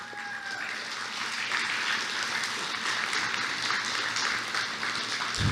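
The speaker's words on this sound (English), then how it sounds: "Let's have one more round of applause for all the people in the panel." Sustained audience applause for a panel at an opioid presentation, a dense steady wash of many hands clapping that holds at even loudness throughout, with no talking over it.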